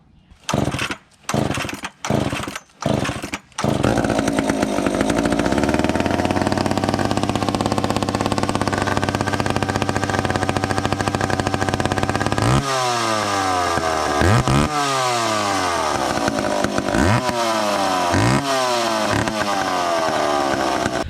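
A chainsaw unused for two to three months pull-started with a few short tugs, then running loud and steady up close, with several sharp revs rising and falling over the idle.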